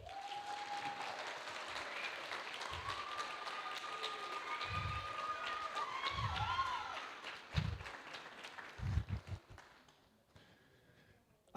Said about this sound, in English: let's give a big round of applause to all of this year's nominees